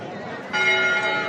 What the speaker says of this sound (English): across the way there, the bells are ringing